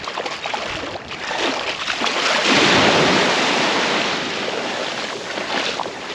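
Surf breaking along a South County saltwater beach around sunset, a steady broadband wash that swells to a louder crest midway before easing back, with wind buffeting the microphone and no talk.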